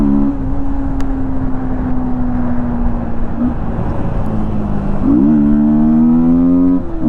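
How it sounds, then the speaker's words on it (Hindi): Yamaha MT-15 motorcycle fitted with an open air filter, its single engine idling with a deep intake burble, then revved sharply twice near the end, loud and close with no voices. "तो भाई ये था अपना प्योर साउंड MT-15 के ओपन फिल्टर का।"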